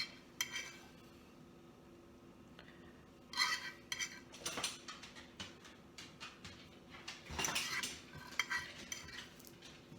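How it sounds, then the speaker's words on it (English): A metal fork scrapes and clinks against a cooking pan holding stuffed salmon, with irregular close taps and scrapes over a faint low background hum. "He's going to kill me using my fork in this pan."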